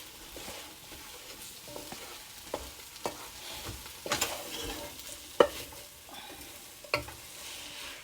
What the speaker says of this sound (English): stirring the onions and pepper